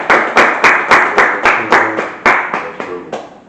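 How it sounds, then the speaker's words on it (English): A small group giving a round of applause for a basketball coach, loud, close, slow rhythmic claps in unison, about a dozen strikes that taper off. "So let's give a round of applause."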